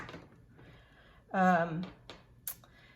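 A squeaky table creaks once loudly during a paper-craft show and tell, a strained tonal squeal with stacked harmonics lasting about half a second, followed by faint rustling and a short sharp tap near the end.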